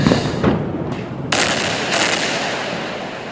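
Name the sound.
Israeli airstrike explosion hitting Al Sharouk Tower in Gaza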